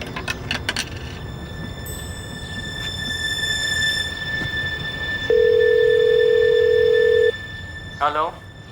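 A telephone rings in a steady electronic tone lasting about two seconds, faintly mid-ring and otherwise alone, in a police crime drama scene.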